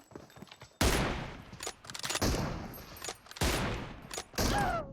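Gunfire from the PUBG Mobile battle-royale video game: several loud bursts of shots and sprays in quick succession, with sharp attacks and short gaps between volleys, close and dominant with no talk over them.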